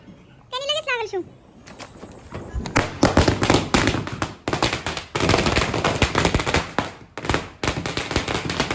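Firecracker string bursting during Diwali, a long run of rapid sharp cracks and pops going off close by in dense irregular bursts, preceded by a brief rising whistling sound.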